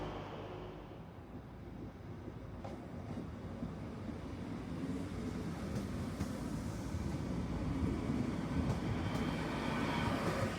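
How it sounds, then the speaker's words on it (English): A 10-coach Hull Trains service rumbles steadily into Hull Paragon station, a low broad roar building gradually with faint metallic squeals and clanks, no voices. "The train's pulled in now."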